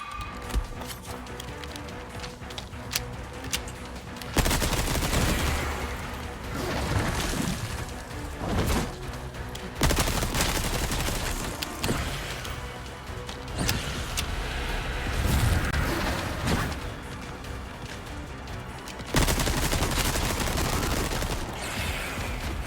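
Gunfire in the video game Resident Evil 4 booms in loud, dense bursts separated by quieter stretches of in-game ambience, with no talking.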